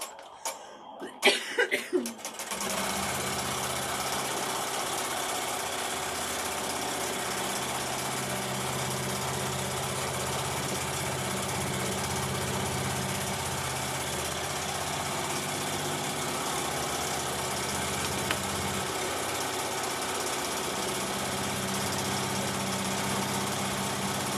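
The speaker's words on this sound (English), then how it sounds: "We're going to go ahead and run our placement stitch." An embroidery machine runs a placement stitch for an in-the-hoop stuffed duck, a steady loud mechanical whirring hum with rapid needle chatter that continues evenly throughout after a few brief knocks at the start.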